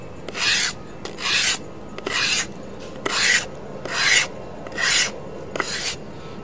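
Outer skin of bamboo is scraped off with a blade in seven regular rasping strokes, each about half a second long with short pauses between, close and crisp with no voices.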